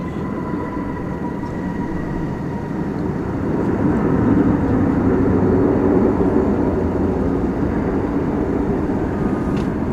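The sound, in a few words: Airbus A321 airliner landing at DFW airport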